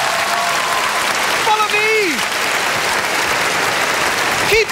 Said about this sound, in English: Come on, get a round of applause.